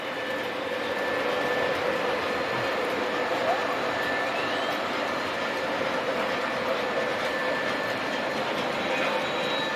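A Pennsylvania Railroad model train engine fitted with PS3 sound runs steadily, giving a continuous rumbling drone with faint high tones and no pauses throughout.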